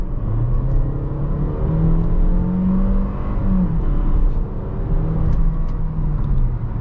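A 2022 Fiat 500X engine revs and pulls steadily under acceleration from about 25, a continuous close rumble rising in pitch with a brief dip midway.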